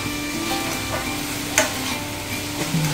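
Vegetables sautéing in a frying pan for a potato and kofta tortilla: a steady, close sizzle of hot oil throughout, with a few light clinks and scrapes of stirring.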